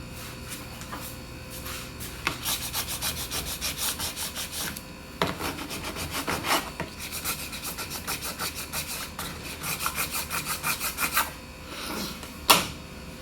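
A squeegee is rubbed over vinyl wrap on a SodaStream Genesis, with close, rhythmic scraping strokes repeating in quick runs and short pauses between them, ending in one sharper squeak.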